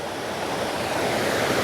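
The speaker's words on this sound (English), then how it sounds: "the water's just coming over that quite heavily" Water pours heavily over rocks beside an outdoor waterfall, a loud, continuous broadband rush with no pauses and no voices.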